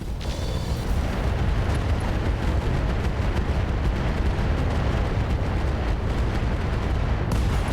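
Mech weapons unloading in the RogueTech battle game, a dense, continuous roar of explosions and gunfire rumbling without pause for several seconds, loud and close.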